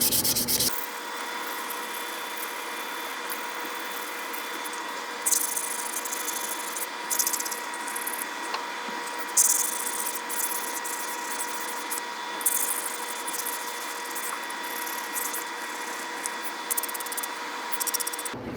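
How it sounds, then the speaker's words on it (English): Hand sandpaper rubs over a wooden kitchen board to remove router burn marks, a steady close scratchy rasp that keeps going in short back-and-forth strokes for the whole stretch. "So I'm going to just use some hand sandpaper to try to remove those"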